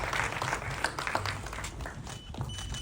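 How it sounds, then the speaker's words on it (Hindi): Audience at an Indian event applauding enthusiastically, a continuous dense clatter of many hands at moderate level, sustained for the whole stretch with faint voices underneath. "एक बार जोरदार तालियां हो जाए"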